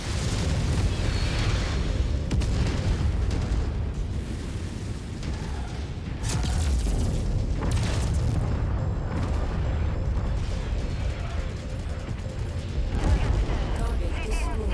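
Artillery shells burst repeatedly in the MechWarrior 5 mech combat game, a dense run of heavy booms and rumbling blasts that continues for the whole stretch with almost no break.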